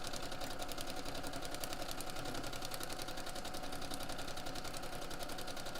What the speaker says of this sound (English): So we're going to start sewing right into that V right there.